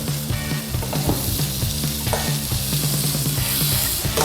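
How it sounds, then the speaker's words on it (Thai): Butter sizzles steadily in a frying pan while cooking steak, with repeated clinks and scrapes of a utensil stirring throughout, close and fairly loud. "ใส่เนยลงไปนะครับ เดี๋ยวกระทะไหม้นะครับ"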